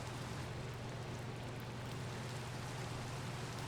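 Rain falling in Minecraft with the Enigmatica 2 modpack, a steady, even hiss of rainfall that holds level throughout with no other sounds over it.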